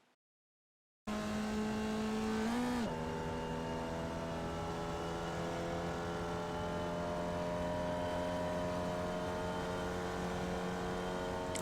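A Formula Vee race car engine laps Okayama Short in iRacing, a steady, loud buzzing drone that follows a moment of silence, with a brief pitch dip as it shifts early on and then a sustained, even run.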